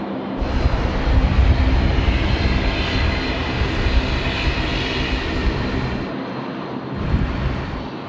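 A fixed-wing airliner lands at Sydney Airport at night, its engines a loud, steady roar that holds for several seconds with only small swells, heard on its own.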